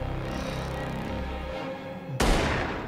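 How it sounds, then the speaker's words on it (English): A gunshot from the TV show You cracks out sharply near the end, following a low, muffled rumbling scene sound. "Someone shoot someone?"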